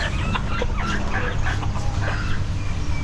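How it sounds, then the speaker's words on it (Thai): Several chickens clucking and squawking close by at a zoo in Thailand, overlapping calls in quick bursts over a low background hum. "ไก่ชิคกี้ โอ้เยอะเลย"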